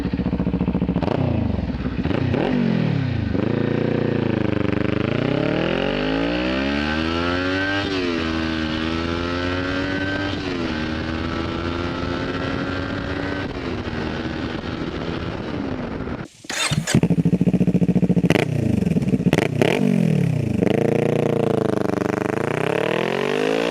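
A Kawasaki Ninja 400 fitted with an MMW exhaust revs up through rising and falling engine sweeps, then pulls away with a sharp blip and a rougher, louder exhaust burble close by.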